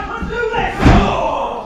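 A single heavy thud as two tag team wrestlers hit an opponent with a double shoulder block, landing over crowd noise and a commentator's voice.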